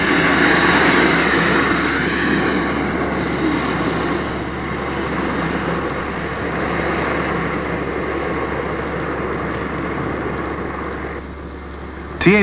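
A Hawker Siddeley 748 airliner of Thai Airways Company, 1960s, with a steady, loud engine roar running throughout before it drops briefly near the end.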